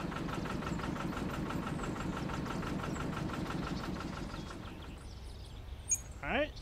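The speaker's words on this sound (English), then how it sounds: "the truck sound like an old tractor running" A garbage truck engine idles in the video game Cafe Owner Simulator, a rough, chugging low rumble like an old tractor that runs steadily and then fades, followed by a couple of brief higher tones.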